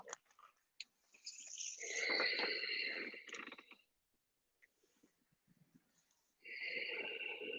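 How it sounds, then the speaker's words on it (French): Slow, deep breaths during a yoga session, two long breathy inhales or exhales close to the listener with a quiet pause between them. "On fait 3 respirations profondes."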